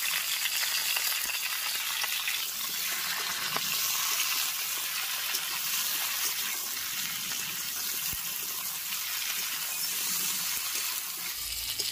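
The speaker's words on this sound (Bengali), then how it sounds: "সবজিগুলি দিয়ে ভেজে নেব" Winter vegetables frying in a pan for khichuri, with cauliflower and potato among them, give a steady, loud sizzle throughout, broken by faint stirring scrapes and no voices.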